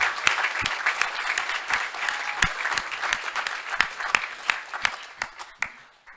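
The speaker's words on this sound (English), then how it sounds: "Let's give them another round of applause." A large audience at a university graduation ceremony applauds the graduands, producing sustained, dense clapping with a few sharp individual claps standing out, tapering off toward the end.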